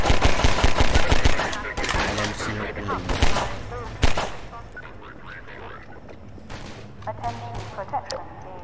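Gunfire in Half-Life 2: rapid automatic bursts at the start, then scattered single shots and short volleys through the rest, loud and close, with someone talking between and over them.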